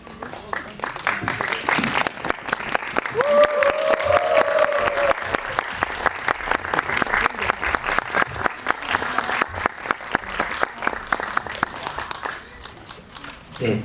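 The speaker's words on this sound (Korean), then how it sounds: "입장하실 때 큰 박수로 환영해 주시면 감사하겠습니다" A theater audience gives loud, sustained applause as the director and actors of the Korean film 침범 walk on stage, thick, continuous clapping for about fourteen seconds with a brief voice over it.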